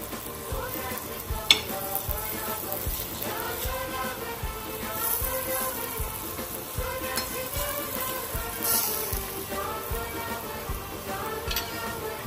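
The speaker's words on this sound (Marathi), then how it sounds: "सगळे बोंबील आपण एक साईडनं फ्राय करून घेतलेले आहेत, तर पलटी करून घेऊया मस्त." Veg bombil coated in rava fries in a pan with a steady sizzle, broken by soft clicks and taps as the pieces are flipped over.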